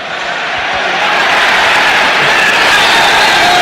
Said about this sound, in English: There was a little ripple of applause